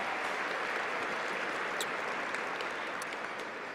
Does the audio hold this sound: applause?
yes